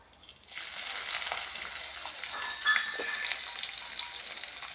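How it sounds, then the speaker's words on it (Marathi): Ground dry coconut tossed into hot oil for a village-style brinjal curry, bursting into a steady, close, fairly loud sizzle and crackle that holds for several seconds with no talking. "आता तेल तापलंय त्याच्यामध्ये आपल्याला जे हे खोबऱ्याचं कूट कुटलेलं आहे ते त्याच्यामध्ये टाकायचं"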